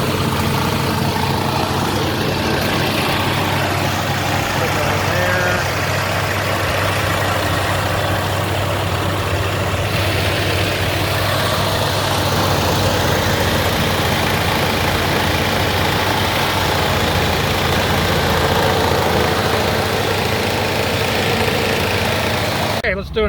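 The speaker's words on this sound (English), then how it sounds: "this is the engine running" A patched-up 1973 Ford Mustang engine runs at a steady idle, a continuous low rumble that stays close and even throughout, with a voice speaking over it.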